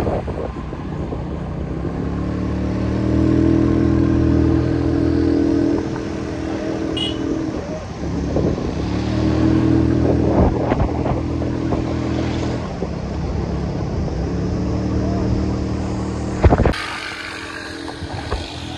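A scooter engine drones steadily while riding on a road trip, the pitch rising and falling with speed over nearly twenty seconds, close and fairly loud, ending with a short clunk and rattle.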